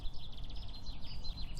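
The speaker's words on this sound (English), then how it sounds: "Honeybee, and if you listen carefully, you've got all the bird song." Birdsong outdoors on a spring morning with dandelions and bees about, quiet chirps and trilled phrases repeating in the distance over a low rumble of background noise.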